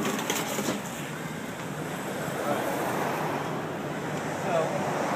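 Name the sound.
roadway traffic passing by a parked car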